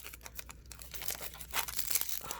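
A trading card pack wrapper from a 2020-21 O-Pee-Chee hockey hobby box crinkles and tears as it is cut open with scissors, giving close, continuous rustling with sharper snips near the end.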